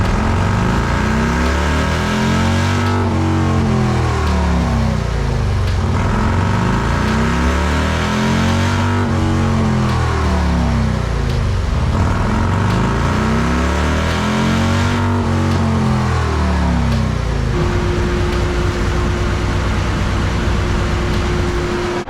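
Motorcycle engine on a dyno after a smart tune calibration, loud and close, revving up through the gears in repeated rising sweeps, then settling to a steady drone near the end.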